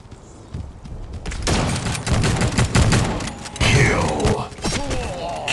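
Rapid bursts of automatic gunfire and thudding shots fill a match of the mobile shooter Guns of Boom, loud and dense over a few seconds, with game announcer voice lines heard faintly.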